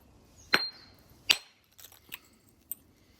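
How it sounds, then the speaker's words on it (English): A hammer stone strikes flint while an arrowhead is being knapped, giving two sharp, close clicks followed by several lighter taps in a quiet setting. "to set that platform up, I just used a hammer stone"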